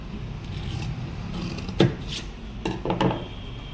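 Scissors snipping through blouse lining fabric folded in four layers, with soft rubbing and scraping of cloth followed by a few sharp, close cutting snips heard alone.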